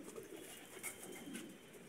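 Pigeons, including a newly acquired zeera pigeon, coo and flutter faintly at a distance over a steady background hiss, with soft intermittent calls and no talking.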